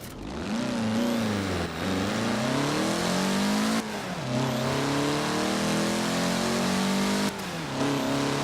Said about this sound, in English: Annoyingly, it seems that they're stuck to the bad turbo noises in this.